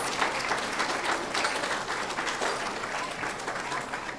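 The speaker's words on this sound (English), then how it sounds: "Let's give our 4th grade team a round of applause, and our teachers." Continuous audience applause at a 4th grade awards ceremony for the team and teachers, an even, full wash of many hands clapping with no talk over it.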